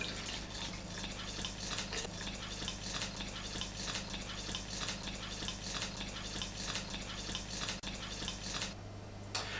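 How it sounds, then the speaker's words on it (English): Vodka is poured into a Kilner jar holding cherries and sugar, making a faint, steady liquid trickle for several seconds that stops just before the end. "then simply pour in the vodka"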